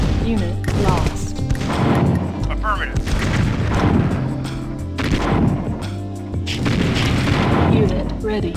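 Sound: nuclear weapon explosion in strategy video game

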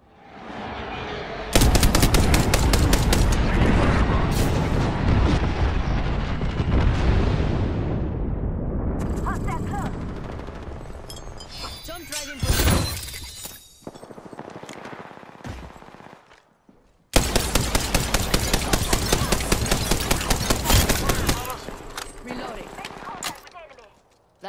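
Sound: airstrike explosions in a video game

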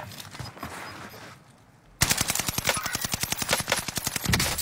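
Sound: gunfire in the video game Call of Duty

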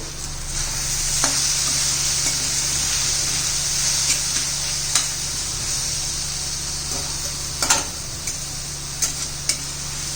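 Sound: stirring red chili powder into spiced eggplant bharit

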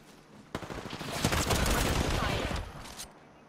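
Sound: gunfire in video game Apex Legends

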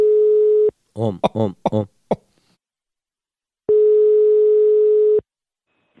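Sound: telephone dial tone when placing a call

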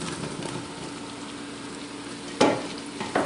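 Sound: andouille sausage sizzling in pan with caramelized onions

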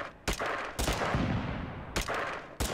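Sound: gunfire in the video game Totally Accurate Battlegrounds

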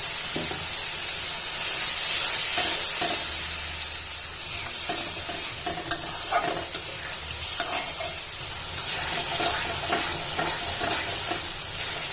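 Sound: spice paste frying in pan

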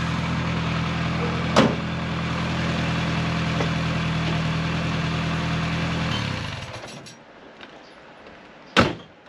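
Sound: restored Fiat 600 (Fićo) engine idling

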